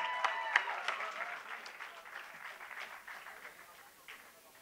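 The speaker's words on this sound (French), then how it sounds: "on peut s'applaudir" Applause from the audience at a closing ceremony, moderately loud at first and slowly fading over several seconds, with scattered sharper claps standing out from the wash.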